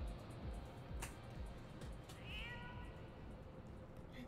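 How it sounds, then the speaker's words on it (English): A cat meows once in a Final Fantasy XIV cutscene, a faint short call under steady game background noise with a few soft clicks. "There's a little kitty cat!"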